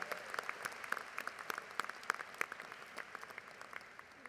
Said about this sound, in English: Let's all give all of them a wonderful round of Cougar applause today.